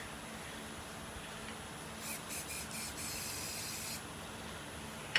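Activator is sprayed onto resin in a couple of short, soft hissing bursts over a quiet room background.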